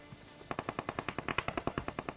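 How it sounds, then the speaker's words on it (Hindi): Rapid automatic gunfire from a battle-royale video game, with shots coming from all sides, rattles in a steady, evenly spaced burst of about twenty sharp reports, loud and alone without talk. "क्योंकि हर तरफ से गोलियां चल रही थी"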